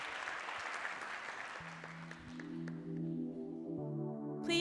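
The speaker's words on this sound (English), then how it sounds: "if we can get one more round of applause for the speaker today" An audience at a tech product conference applauds a speaker; the clapping starts full and fades over a couple of seconds as sustained stage music rises and carries on.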